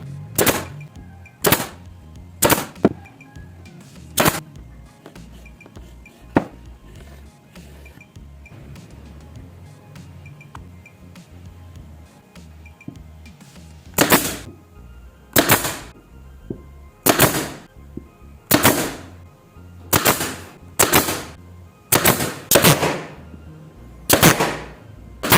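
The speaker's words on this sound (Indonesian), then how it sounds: "Kita bantu dengan paku tembak." Sharp, loud individual shots from a nail gun driving nails into wood on a homemade wood-carving tool, fired singly with irregular gaps, bunching into quicker repeated bangs near the end.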